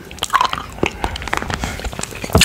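Close-up biting and crunching of a hard jawbreaker candy with a bubblegum center, several sharp crunches and wet chewing sounds in an irregular rhythm, loud and near, with no talking.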